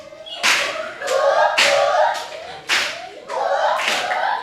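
A group claps together in a steady rhythm, several sharp hand-clap bursts landing in a repeating pattern, loud and close, with no voices over them.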